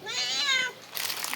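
A pet cat meows in a drawn-out, wavering call up close, followed by a brief higher-pitched noisy burst, with no talking.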